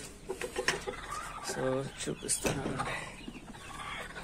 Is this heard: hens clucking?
yes